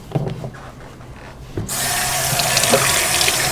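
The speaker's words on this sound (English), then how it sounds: "I don't believe I rinsed off these gherkins." Tap water runs steadily into a sink to rinse gherkins for pickling, starting as a broad loud stream after a few soft handling clunks and continuing alone.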